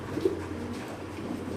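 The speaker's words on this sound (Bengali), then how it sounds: "শর্ট পেস কবুতরের ডাক দেখেন ভাই" A short face pigeon at a pigeon farm gives a soft, low coo, faint and brief against a quiet background hum.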